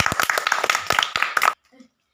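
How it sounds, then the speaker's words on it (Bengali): A small group at a village ludo prize game claps for a winner in a brief burst of quick, close handclaps under speech, lasting about a second and a half before stopping abruptly. "হ্যাঁ, সবাই একটা হাততালি হবে।"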